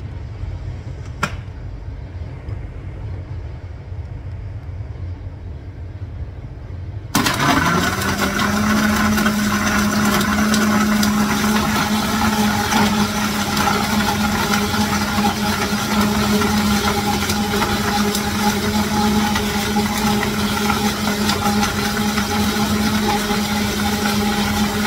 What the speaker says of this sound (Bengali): মিক্স মেশিনে